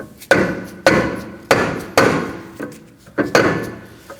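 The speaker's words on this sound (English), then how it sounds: "I'm gonna use a mallet. We're gonna go ahead and tap around this area to get it loose." Mallet blows on a rear brake rotor of a 2011-2016 Kia Optima, knocking it loose: seven sharp metallic-wooden thuds at a steady, roughly half-second rhythm, close and loud with no talk.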